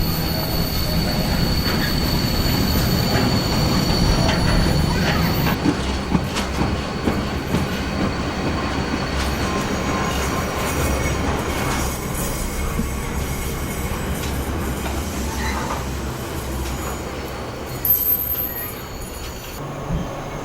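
A long freight train rumbles past close by at Kenilworth Junction, wheels clattering and squealing on the rails as it gradually slows, with no one talking.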